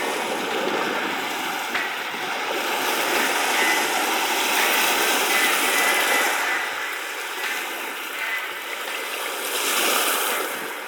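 Lake Superior waves wash steadily onto the shore in Michigan's Porcupine Mountains, a continuous broad roar of surf that swells and eases over several seconds with no voices.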